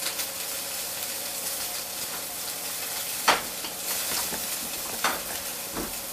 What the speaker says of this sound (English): Now because this pan is really hot, I know these are going to brown up real quick.